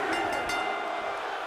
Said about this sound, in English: Crowd may be chanting one more time